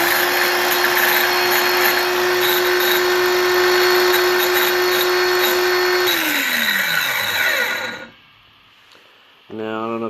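A Craftsman C3 cordless 5-1/2 inch trim saw runs loud and steady with a high whine and rattle, then winds down and stops, and a second brief run of the motor starts at the end.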